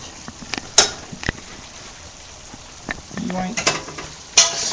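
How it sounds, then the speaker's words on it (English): Ground beef sizzling in a frying pan with the burner just switched off: a faint, steady crackle sits under the quiet, broken by a few sharp clinks and scrapes of a utensil against the pan. "It's still sizzling."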